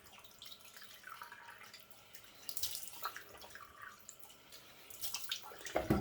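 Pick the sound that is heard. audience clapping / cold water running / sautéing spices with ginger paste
cold water running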